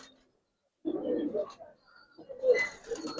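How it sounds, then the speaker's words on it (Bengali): Two female pigeons of a fancy Bangladeshi breed, kept as a matched pair, give soft cooing calls in two bursts with a pause between, close by and fairly quiet. "এই দুইটাই মাদি কবুতর ভাই"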